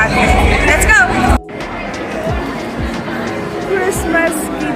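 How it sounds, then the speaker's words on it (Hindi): Dense crowd hubbub fills a large shopping mall during the Christmas rush, many overlapping voices and footsteps near and far, with a brief dip in the noise before the steady babble resumes. "क्रिसमस की भीड़ है ये।"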